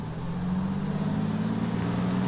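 Car engine idling in The Walking Dead video game, a steady low hum with a faint high whine, continuous and close.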